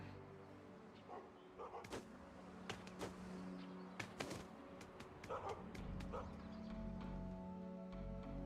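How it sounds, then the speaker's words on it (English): A dog barks intermittently inside the God of War game world: short sharp yips and bow-wows scattered through steady background game music and ambience, moderately loud rather than distant. "is that a dog? Can you pet the dog?"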